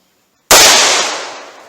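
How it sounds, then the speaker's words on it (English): A single .357 Magnum shot from a 4-inch barrel firing PMC 150-grain ammunition, one sharp loud crack that rings down and fades over about a second. "going to start with the 4-inch barrel, see what kind of velocity we get with this PMC ammunition, 150 grain"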